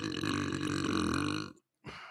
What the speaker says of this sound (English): I tried to move the phone, but I burped a little bit.